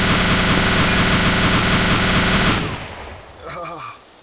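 Rapid automatic gunfire in the DayZ video game, a weapon firing about 4,000 rounds a minute, rattles loudly and continuously for about two and a half seconds, then cuts off into quieter game sounds.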